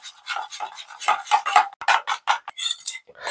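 A spoon stirs custard powder into liquid, scraping and clinking against the bowl in quick, regular strokes that sound close and clear, with no talk.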